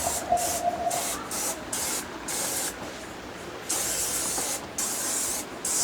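Spray cleaner is squirted onto plotter machine parts in a series of loud, close hissing bursts, each a second or so long, separated by brief pauses.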